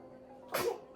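A single sharp sneeze bursts out close by midway through, loud against a quiet indoor background with no talking.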